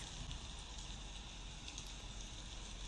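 Steady rain falls on the hard, shiny leaves of salal and Oregon grape in an Oregon forest, a constant soft patter and hiss with no pauses.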